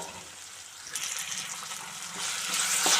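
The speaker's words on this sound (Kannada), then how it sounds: "ಇವಾಗ ನಾವು ಬಾಳೆದಿಂಡನ್ನು ಕಟ್ ಮಾಡಿ ಇಟ್ಕೊಂಡಿದ್ವಲ್ಲ ಅದನ್ನು ಸೇರಿಸ್ಕೊಳ್ಳೋಣ." Chopped banana stem tipped into salted buttermilk, a wet splashing and sloshing of liquid that builds louder toward the end, close and without talk.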